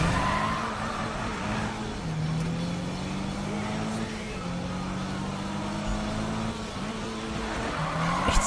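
Tires skid and squeal through short drifts of a car in Need for Speed (2015), the engine droning steadily underneath with repeated rising and falling squeal tones, loud and continuous.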